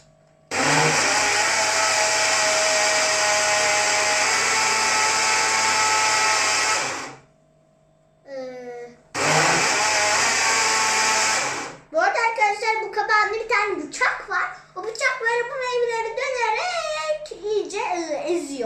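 A blender whirs loudly and steadily through a forest berry smoothie for about seven seconds, stops, runs again in a brief burst, then children's voices chatter over a faint background hum.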